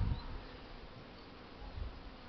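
Low, steady buzzing of many honeybees flying around hives in February, a soft continuous drone with slight swells, heard outdoors without voices.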